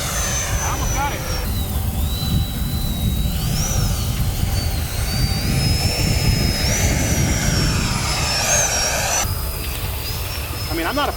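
An FMS Rafale 64mm electric ducted-fan RC jet roars steadily and loudly throughout, its whine rising and falling as it flies past.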